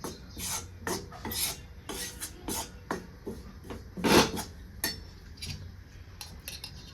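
Wheat flour roasting in ghee in a pan is worked with a utensil, giving quiet, irregular scraping and rasping strokes, with one louder scrape midway.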